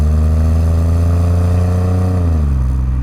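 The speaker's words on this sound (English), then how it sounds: "Sounds kind of like a spaceship taking off initially when you give it a little bit of gas" A Toyota Alphard minivan engine accelerates from inside the cabin with a loud, smooth, rising whine and hum that climbs steadily, then eases and drops in pitch near the end, no voices.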